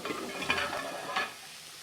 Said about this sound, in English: Cheese and plums are cooking on a griddle pan.